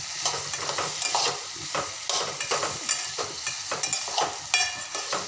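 Okra bhindi masala sautéing in a pan, with rhythmic spatula strokes scraping and tossing the pieces over a steady sizzle, close and fairly loud, no voices.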